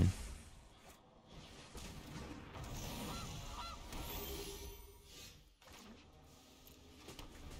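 A golden goose card in the Magic: The Gathering Arena video game sets off cartoonish goose honks over a low game soundscape, with a few quiet effect sounds and clicks mixed in, fairly faint overall.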